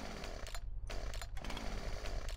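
A Stihl chainsaw in Farming Simulator 2017 revs with a rough, buzzing drone that dips briefly and surges back, fairly quiet and unaccompanied by talk.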